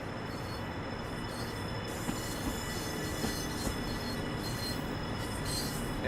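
An M7 commuter train on the Long Island Rail Road pulls in within Train Sim World 4, a steady rumbling rail roar with squealing wheels and faint clicks of track joints, heard alone throughout.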